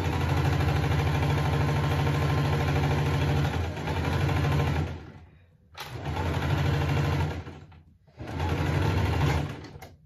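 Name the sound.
sewing machine sewing a fabric pouch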